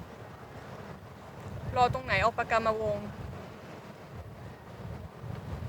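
Strong wind blows across the coast of Koh Samui near the Hin Ta Hin Yai rocks, a steady low buffeting roar on the microphone, with voices talking briefly in the middle.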